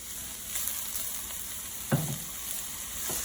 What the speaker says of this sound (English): So now we're going to add in 1 chopped medium onion. And we are going to let that cook for about 3 minutes.